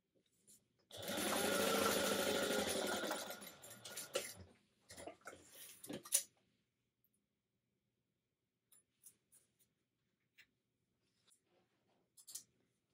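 A sewing machine stitches fabric for a clutch bag, running in one steady burst of about three seconds, then a few shorter stitching runs, followed by quiet with scattered soft clicks and handling noises.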